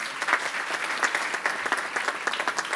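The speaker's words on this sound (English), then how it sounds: "Give yourselves a round of applause." Newly graduated master's students applaud themselves at their graduation ceremony, a crisp, lively patter of many hands with distinct individual claps, moderately close and steady.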